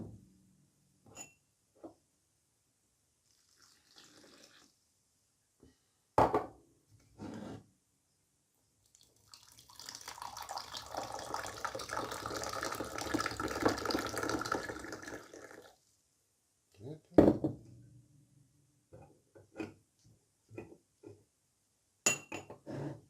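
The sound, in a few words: Moroccan mint tea being poured, splashing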